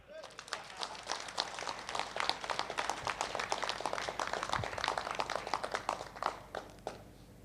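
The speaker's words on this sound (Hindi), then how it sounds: "तो जोरदार तालियां" A seminar audience at Olive Restaurant in Jaipur breaks into loud, dense clapping that runs without letup, with occasional voices mixed in among the claps.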